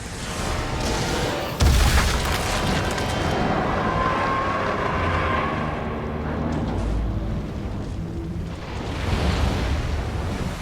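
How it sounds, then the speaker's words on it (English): Rocket launcher explosions in the video game Resident Evil Revelations, with heavy booms merging into a continuous loud roaring rumble that stays dense throughout. "And to top this 5-course meal, another rocket launcher."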